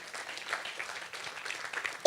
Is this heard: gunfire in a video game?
no